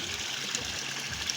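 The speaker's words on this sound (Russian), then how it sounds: "показываю, как течет вода, как она стекает" Water trickling and splashing down over stones in a small decorative fountain with a submerged lamp, a steady close babbling flow with no voices.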